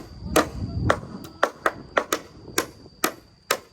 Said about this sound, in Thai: ตอกอย่างเดียวเลยตอนนี้